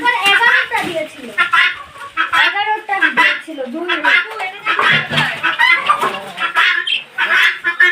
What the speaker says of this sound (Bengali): এই হলো আমার মুরগি